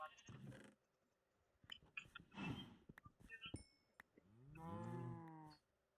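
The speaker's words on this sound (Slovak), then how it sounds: "Nechce zabíjať kravy." Cows in the Minecraft video game give several drawn-out moos mixed with other short game sound effects, heard clearly with no one talking over them.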